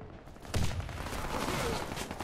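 Gunfire from the video game Warface starts with a sharp shot and continues as a dense, sustained rattle of rapid rounds at moderate distance, steady in loudness to the end.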